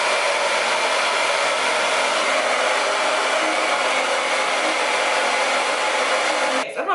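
A hair dryer blows on bleached blonde hair, a loud, constant close-up whoosh holding steady for several seconds before a brief fumbling change at the very end.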